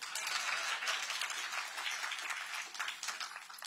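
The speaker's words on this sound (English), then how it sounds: "You can clap there." Audience applause at an afternoon groundbreaking ceremony for the Bridge District in Ward 8, a steady wash of many hands clapping at moderate distance, continuous and fairly even for a few seconds with no talking over it.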